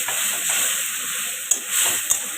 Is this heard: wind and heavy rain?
no